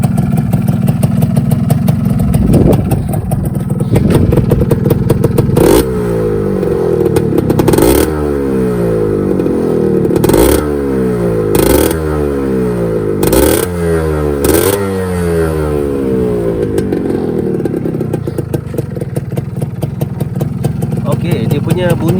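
Two-stroke motorcycle engine fitted with an RZ carburetor idles with a crackling burble, then revs sharply several times in quick bursts before settling back to idle, loud and close.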